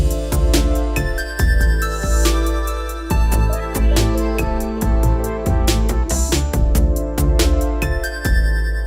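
A synth line processed by Native Instruments Replica XT in vintage mode, its stereo delay echoing each note within a dense retro instrumental mix of steady beats and sustained chords.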